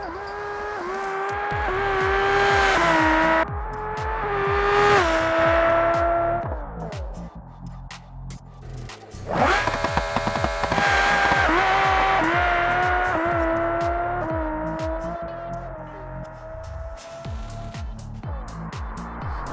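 Unmodded European drag car in the video game BeamNG at Bradenton Motorsports Park, with a loud engine screaming up through rapid gear shifts, each rising pitch sweep cut by a shift, sustained at high revs, then dropping off near the end.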